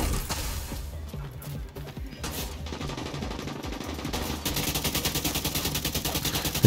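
An automated turret in The Division 2 video game rattles off rapid bursts of gunfire, with scattered shots early giving way to a steady, dense stream of fast repeated shots near the end.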